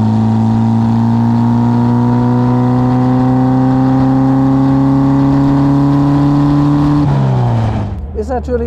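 A 1957 Porsche 356 Speedster engine, tuned for more power, idles and revs with a deep, throaty Sebring exhaust, holding a steady drone before dropping off as the engine winds down.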